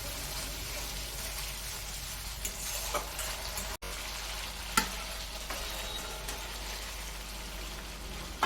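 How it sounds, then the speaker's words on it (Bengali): Spice paste frying in a pan while being stirred, a constant crackling sizzle that resembles light rain, with occasional faint scrapes and taps, one brief dropout, and no voices. "এবার মশলাটা জমিয়ে কষিয়ে নিই মাংসের মশলার মতো"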